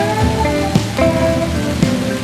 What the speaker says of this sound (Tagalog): Ngayon, salo namin lahat ng ulan.